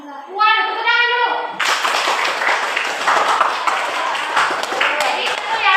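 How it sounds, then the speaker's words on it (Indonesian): Children in a classroom burst into loud, dense clapping after a short sung or spoken tone, the applause continuing steadily to the end. "Waduh, tepuk tangan dulu"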